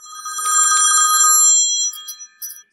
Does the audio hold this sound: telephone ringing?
yes